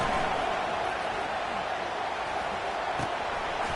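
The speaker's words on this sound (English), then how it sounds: "Listen to the crowd energy here in the early going." A stadium crowd at an LSU college football game roars as a steady, dense wash of distant cheering and noise.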